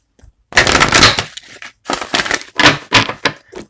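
Tarot cards being shuffled up close in several quick riffling bursts with short pauses between them, crisp and loud.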